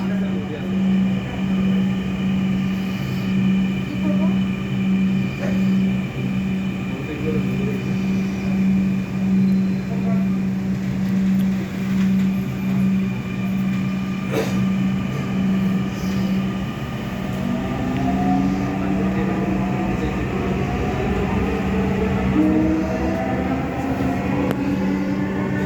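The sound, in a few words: Dhaka metro rail train at station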